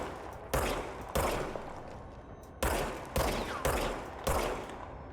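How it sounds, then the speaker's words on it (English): Six sharp, loud gunshots from a regenerating-ammo service weapon in the video game Control, fired singly at irregular intervals with short decaying tails. "Now I have a gun."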